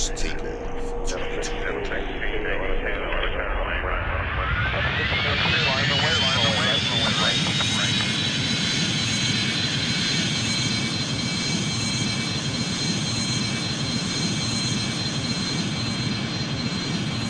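A Boeing MD-90 airliner taking off in the flight game Airline Commander: a jet engine whines and spools up over several seconds into a steady, loud roar that holds to the end.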